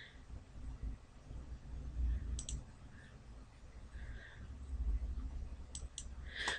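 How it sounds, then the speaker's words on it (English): A computer mouse gives a few quiet, sharp left clicks in small clusters, set over a low muffled background hum. "Pull your mouse out and left click. So it's 3 left clicks."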